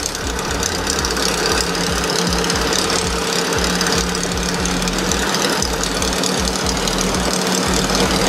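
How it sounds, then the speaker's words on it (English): A Volkswagen-engined dune buggy sand rail idles close by with a steady, rough, loping rhythm and knocking pulses, loud and continuous, with no talk. "Right now I'm just idling with it"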